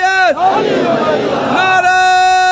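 A religious gathering's crowd shouts a slogan back in unison, loud massed voices swelling for about a second between a speaker's amplified, echoing calls.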